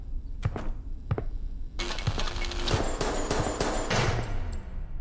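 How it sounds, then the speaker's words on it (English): Rapid bursts of gunfire in a horror video game, starting with a few isolated sharp shots and then breaking into a dense, sustained volley of loud cracks that continues to the end. "Meron akong narinig na gunshots!"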